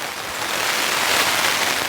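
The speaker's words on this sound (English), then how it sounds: "that rain's really picking up out there" Heavy rain drums steadily on a camping tent in a storm, a dense, even hiss that swells slightly louder toward the end, close and continuous with no voices.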